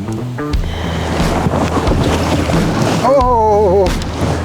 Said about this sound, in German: Oh, it's windy, windy.